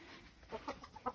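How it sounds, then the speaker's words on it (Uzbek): Young chicks hatched in early May give a few brief, faint peeping and clucking calls, quiet and close, with no talk over them. "mayni boshida chiqqan jo'jalar"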